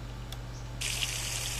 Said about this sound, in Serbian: Zanima me da li ja mogu da sipam... oil